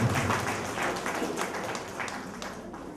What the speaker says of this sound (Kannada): ಜೋರಾದಂತಹ ಚಪ್ಪಾಳೆ